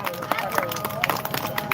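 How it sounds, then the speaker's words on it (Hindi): A congregation at a devotional gathering claps steadily to welcome visiting saints, a dense run of close, sharp hand claps mixed with crowd murmur and talk. "तालियां बजाते रहिए साहब, तालियां बजाते रहिए।"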